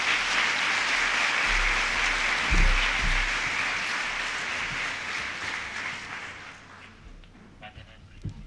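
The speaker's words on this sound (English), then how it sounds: "please give them a warm round of applause." Sustained audience applause at a public talk fills the room, loud and dense at first, then thinning and tapering off toward the end with a few scattered final claps.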